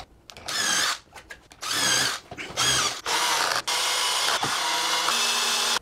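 A power drill drives screws into a jig for a bench grinder gouge-sharpening setup, several whirring bursts that rise in pitch, broken by short pauses, close and loud.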